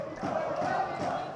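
Futsal arena crowd applauding during an Italian league match between Pesaro and Pescara, a sustained wash of clapping and crowd noise at steady moderate level, filling the arena without a break.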